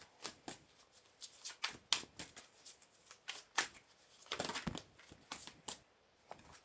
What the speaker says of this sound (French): j'ai du mal à tirer les cartes avec vous